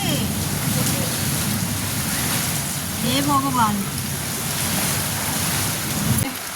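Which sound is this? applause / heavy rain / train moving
heavy rain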